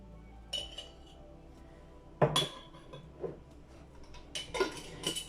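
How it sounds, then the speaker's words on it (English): A spoon stirring ingredients for fenugreek hair oil inside a glass mason jar, giving a few sharp clinks and scraping knocks in scattered clusters, close and fairly quiet against a silent background. "I'm just going to go ahead with my spoon and I'll stir it in"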